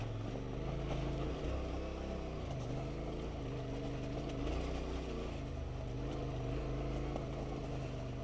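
A motorcycle engine chugging at low revs as the bike crawls slowly over a rocky green lane in the Lake District, steady throbbing hum with gentle fluctuations and no talk.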